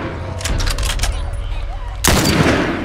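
Gunfire in The Last of Us, a run of heavy shots and rumbling impacts followed by a sharp loud burst, close and forceful.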